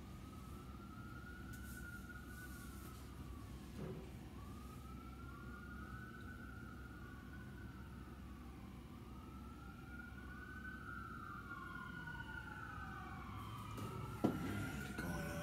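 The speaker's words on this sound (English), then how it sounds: "You hear the siren, guys?" A wailing siren rises and falls repeatedly over a steady low outdoor rumble, fairly distant, with a brief knock near the end.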